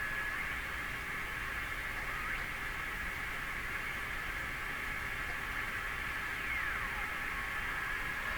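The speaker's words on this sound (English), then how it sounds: "Why so much hiss?" A vintage National HRO 500 communications receiver tuned to 25 MHz gives off a steady hiss of static with a faint whistle drifting through it, continuous and even at a moderate level.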